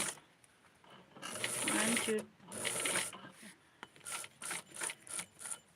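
A sewing machine stitches clothes for a 6.5-inch Tutti doll, running in a longer whirring burst, then a shorter one, followed by a string of brief rhythmic spurts, close by.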